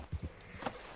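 Horse hooves in the open-world video game Red Dead Redemption 2: a few soft, close clip-clop footfalls early on, followed by a faint brighter scrape, all fairly quiet.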